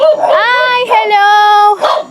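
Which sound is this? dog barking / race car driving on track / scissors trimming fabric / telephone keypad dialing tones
dog barking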